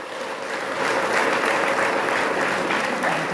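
A congregation at a religious crusade breaks into sustained applause, a dense wash of many hands clapping that swells slightly and holds steady, loud and close throughout.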